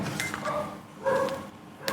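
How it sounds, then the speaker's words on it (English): The dog next door barks in a few short, distant bursts, faint and muffled as if through a wall, with quiet gaps between the barks. "Stupid dog next door."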